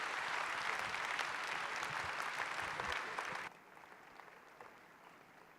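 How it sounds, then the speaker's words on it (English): A church congregation claps in loud, dense applause for about three and a half seconds, then it stops abruptly and only faint room noise and scattered sounds remain. "Could we give them a massive round of applause?"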